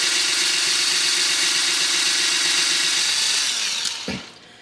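A small power drill bores out the axle hole of a die-cast Hot Wheels toy car, whirring steadily and close for several seconds before winding down and stopping near the end.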